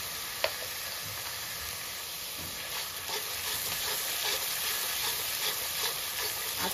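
Garlic paste fries in hot oil for an egg malai curry, a steady close sizzle and hiss with a small clink near the start and faint stirring scrapes, with no one talking.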